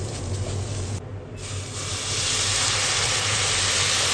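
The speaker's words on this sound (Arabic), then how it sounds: "طبعا هنسقي بالمرقه اللي احنا سالقين فيها اللحمه" Meat broth from boiled meat is poured over rice in a pot, giving a steady loud hiss that swells and stays strong, with a brief dip partway through and no talking.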